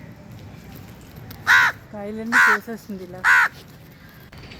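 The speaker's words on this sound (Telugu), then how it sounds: "ఈ వీడియో అంతా మ్యాక్సిమం ఈ కాకి గోళ్ళ అయిపోయిందండి" Crows caw loudly in a terrace garden among bean plants, three sharp bursts spaced about a second apart, with a person speaking between and around them.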